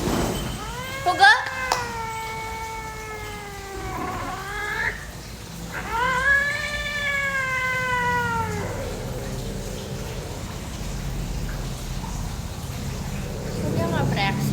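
Recorded cat meows played aloud during a live stream, a few long, drawn-out wavering yowls, one short and several longer, clear and fairly close, with background room noise and talking.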